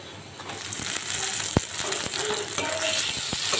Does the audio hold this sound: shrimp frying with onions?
yes